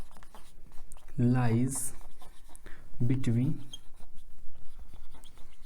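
Chalk or marker scratches across a classroom board during a numerical methods lecture on the bisection method, a steady dry scraping running beneath a man's close, loud explanation.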